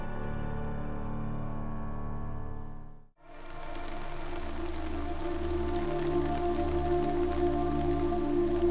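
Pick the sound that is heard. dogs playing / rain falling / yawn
rain falling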